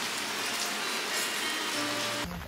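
Steady rain falling on surfaces at an early-morning island resort on Phi Phi, Thailand, a constant broadband patter that stays even throughout, with a brief change in the final moments.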